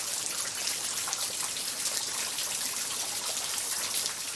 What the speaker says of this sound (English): Got my hand in the rain.